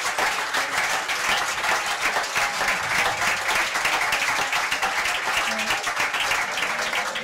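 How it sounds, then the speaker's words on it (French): Dense, steady applause from a debate audience for Aurore, many hands clapping loudly and continuously from start to finish. "beaucoup d'applaudissements pour Aurore"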